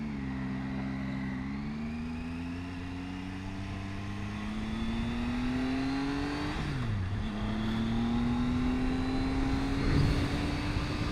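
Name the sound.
Triumph Tiger 800 XCA motorcycle riding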